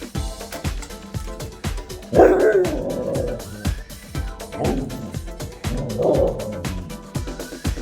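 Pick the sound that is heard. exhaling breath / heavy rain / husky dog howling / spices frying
husky dog howling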